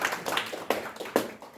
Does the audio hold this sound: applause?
yes